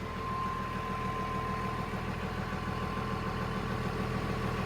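Agricultural machine engine running steadily at 1000 rpm, a constant low rumbling idle with a faint whine on top, close and unchanging throughout with no voices.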